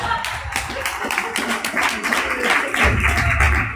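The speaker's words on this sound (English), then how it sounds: "Big hand for Lee, everybody." Audience clapping for a comedian at a stand-up comedy show, a loose patter of many hands filling the room, steady and moderately loud with a brief swell near the end.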